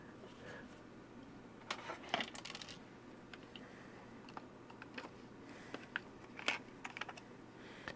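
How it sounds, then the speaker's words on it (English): Loose parts rattle and click inside an Olympia InfoGlobe, a small handheld unit being tilted. Quiet, irregular taps and skittering ticks come in scattered bursts over a faint, steady background hum. "We got stuff rattling around."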